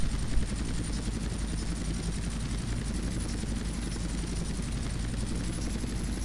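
A helicopter in GTA San Andreas drones loudly and continuously, its dense rotor chop and engine whine steady throughout with no speech over it.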